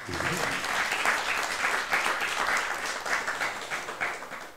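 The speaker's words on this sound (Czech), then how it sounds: "Můžete si zatleskat." An evening audience at Prague's Nod venue applauds a jazz talk event, a full, steady round of clapping that carries on at an even level with individual claps standing out.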